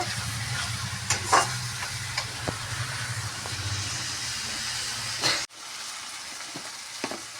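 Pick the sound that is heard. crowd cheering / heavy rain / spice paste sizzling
spice paste sizzling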